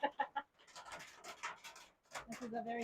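Hens cluck outdoors in the chilly air, three sharp clucks followed by softer scratching and rustling, with voices talking nearby.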